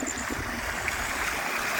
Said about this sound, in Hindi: थोड़ा थोड़ा पानी खुला हुआ है और आवाज़ भी आपको इसकी